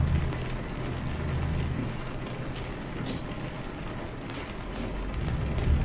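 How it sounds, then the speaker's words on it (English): Heavy rain drums steadily on a truck cab in Euro Truck Simulator 2, a loud, dense wash over a low rumble, with a few brief brighter swishes that could be the wipers. "Rain noises are far louder"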